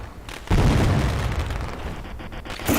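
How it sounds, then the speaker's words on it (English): Fireworks going off over the back stretch of a race track, a sustained loud booming rumble with crackling bursts, heard from a distance and without voices. "fireworks just started shooting off on the back stretch"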